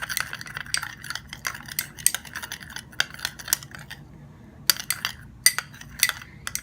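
Skin-whitening face pack ingredients, including glycerin and a capsule, are mixed in a bowl, producing quick, close clicking and scraping taps of a spoon against the bowl in irregular bursts with a brief pause.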